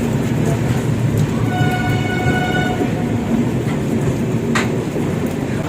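Grand Trunk Express passing at Nagpur Junction, a loud continuous rumble and rattle of coaches with a brief tonal whine midway, heard close and steady throughout.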